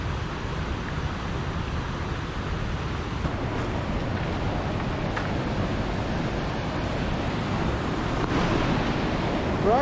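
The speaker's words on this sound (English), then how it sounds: "These waterfalls are almost in full flow." Rushing water roars steadily from waterfalls in near-full flow near Seathwaite in the English Lake District, a dense continuous wash of noise mixed with some wind buffeting on the microphone.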